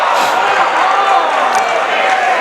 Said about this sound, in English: Now the crowd is not happy.